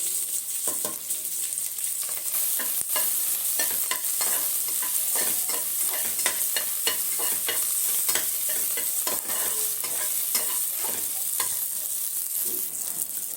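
Ginger, shallots and garlic frying in hot oil in a pan for a restaurant-style leg soup, a constant bright sizzle broken by repeated scraping stirs, close and steady with no talking.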